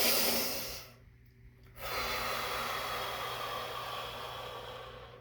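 A person breathes deeply, a long close breathy exhale, a short pause, then a steady airy inhale or exhale that trails off; no words are spoken.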